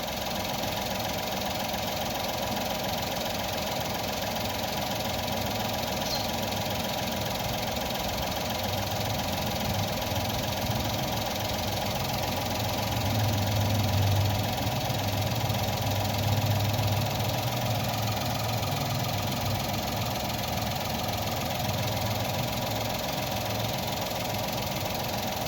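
A car engine idles steadily after a Liqui Moly Ceratec treatment, giving a low, even hum with a faint rhythmic knock and no break for about 25 seconds. Light background noise sits underneath.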